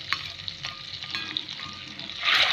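Chopped garlic frying in melted butter gives off a steady close sizzle with a few soft spatters, swelling louder and brighter toward the end.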